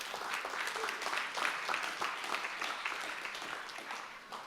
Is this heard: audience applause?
yes